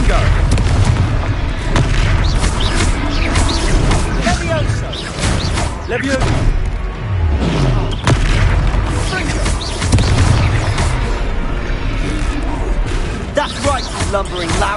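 Confringo explosion spell in a video game, loud repeated booming blasts and impacts in a busy combat scene, with voices shouting over the continuous din.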